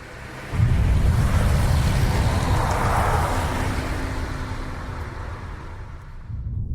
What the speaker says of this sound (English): Two cars zipped past in a hurry.